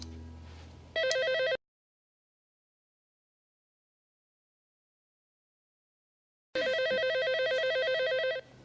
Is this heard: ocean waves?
no